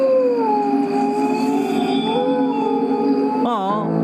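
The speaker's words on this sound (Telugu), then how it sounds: "కుక్క అరుస్తుంటే" A dog howling, a long steady wavering wail held throughout and close, with a sharp rising-and-falling warble near the end.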